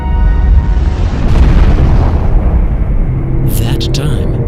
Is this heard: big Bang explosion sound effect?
yes